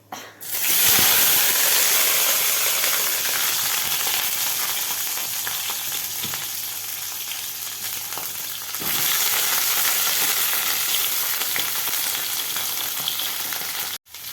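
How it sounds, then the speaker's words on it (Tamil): Mustard seeds and urad dal temper in a little hot oil with a loud, dense hissing sizzle that fills the whole stretch, briefly dipping midway and cutting off sharply at the end, close and with no voices. "இதை கொஞ்சமாக எண்ணெய் வச்சு அதில் கடுகு உளுந்து போட்டு தாளிச்சிருக்கிறேன்"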